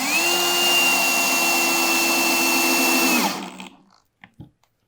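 A power drill whines at a steady pitch while driving a soap-lubricated screw into wood, running loud and close for about three seconds before winding down, followed by a few faint knocks.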